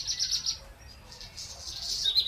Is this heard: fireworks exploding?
no